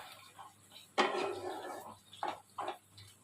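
A spoon scrapes and clinks inside a pot of potatoes after the lid comes off: a few faint metallic knocks and scrapes in a quiet room.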